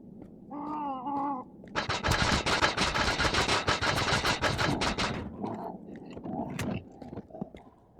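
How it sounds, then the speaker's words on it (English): Rapid burst of Mosin rifle fire from the video game You Are Empty, a loud sustained clatter of shots lasting about three seconds, preceded and followed by brief voice sounds and quieter game noise. "so I'll just pull out the Mosin and take a couple shots"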